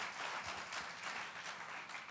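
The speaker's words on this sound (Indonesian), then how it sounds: "Beri tepuk tangan buat Tuhan Yesus." A church congregation applauds for Jesus at a youth worship service, a dense, continuous wash of many hands clapping, heard faint and somewhat distant.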